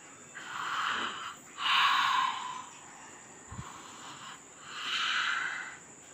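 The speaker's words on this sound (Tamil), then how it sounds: "நல்லா உள்ள மூச்சு இழுத்து வெளியே விடு" Deep, slow breaths drawn in and pushed out during steam inhalation over a pot of boiled medicinal leaves such as nochi, neem and thuthuvalai, with several long breathy exhales close by and no talking.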